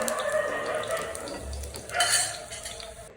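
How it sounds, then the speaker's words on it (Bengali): A metal spoon scrapes and clinks against a pan as fried garlic and dried chillies are lifted out into a bowl, with a faint sizzle of hot oil underneath. "রসুনটা আর শুকনো মরিচটা ভাজা হয়ে গেছে। এখন আমি একটা বাটিতে উঠিয়ে নিচ্ছি।"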